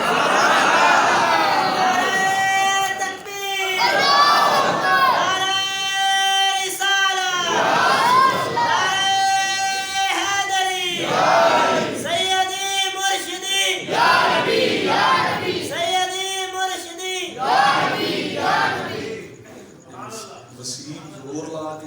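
A crowd at a Mehfil e Milad religious gathering in Jamia Masjid Umar chants slogans together in loud, repeated sung bursts with short pauses between them, continuing throughout.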